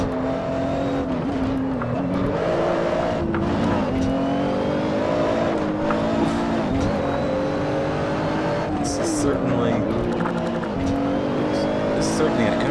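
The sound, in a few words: race car driving on track in Assetto Corsa video game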